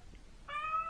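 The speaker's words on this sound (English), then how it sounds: "Sorry, my cat." A domestic cat lets out a single drawn-out, tonal meow close to the microphone, rising out of quiet room noise partway through.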